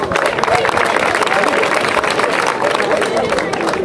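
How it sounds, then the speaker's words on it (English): A crowd at a junior football tournament final claps and cheers in a dense, continuous wash of applause with babble mixed in. It is loud and close throughout. "I want you to give yourself a round of applause."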